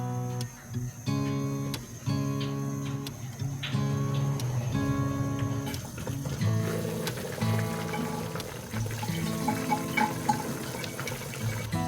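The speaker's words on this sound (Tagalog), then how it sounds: "At sunod na natin itong tubig. Pakuluan lang natin at least 10 to 15 minutes" A pot of water with upo and pork boiling on a stove, a soft steady bubbling under faint repeating music tones.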